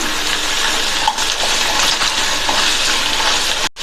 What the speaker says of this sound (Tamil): கொஞ்சமாக உருளைக்கிழங்கு சேர்த்து ஃப்ரை பண்ணிக்கலாம்.